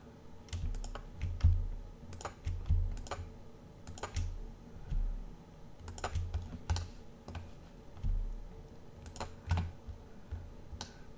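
A computer mouse clicks repeatedly at a desk while a 3D model is drawn in CAD software, with light, close, crisp clicks in small irregular clusters and short pauses between them.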